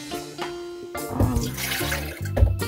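Coconut water is poured into a measuring cup in a kitchen, a close liquid gurgle and splash that builds unevenly over a steady background hum.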